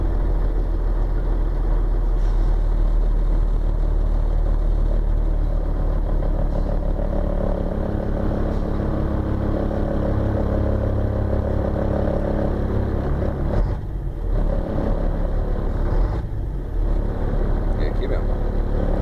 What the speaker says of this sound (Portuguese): agora vou diminuir aqui, ó, rotação, deixar na lenta que eu quero.